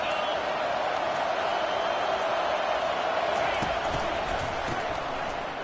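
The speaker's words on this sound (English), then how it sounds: "This crowd trying to make life miserable for this offense." Loud, continuous roar of a large football stadium crowd as the home fans try to rattle the opposing offense early in the game, a dense wash of cheering and noise with no break.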